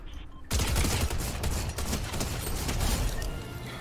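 Gunfire in the video game Fortnite erupts after a brief lull into a dense, continuous barrage of rapid shots and impacts, loud and sustained to the end.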